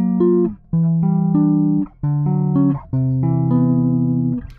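Sustained chords ring out on a Bootlegger Ace headless bass guitar, an American-made boutique instrument, four held chords with brief gaps between them, loud and close with no talking.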